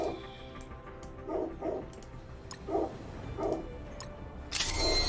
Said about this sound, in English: so that you guys don't have to listen to the dogs